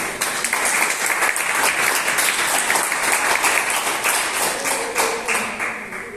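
Sustained applause from a church congregation at a Spanish-language sermon, steady dense clapping filling the room at full loudness throughout.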